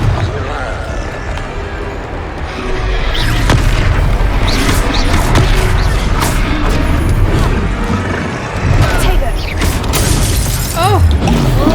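Loud, dense Confringo spell explosions and crashing impacts in the video game Hogwarts Legacy, with booms and shattering debris running almost continuously under a player's excited shouting.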